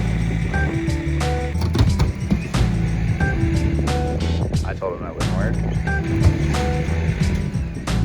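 A small tractor engine labours to pull logs, its low, throbbing drone holding steady with slight surges and clanks, while someone talks over it nearby.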